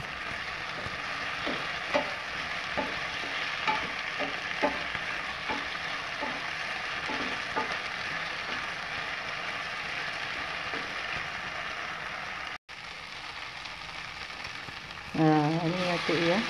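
Spice paste sautés with petai beans in a pan, giving a steady close sizzle with soft stirring clicks throughout. Near the end a brief scraping stir and faint voices rise over the frying.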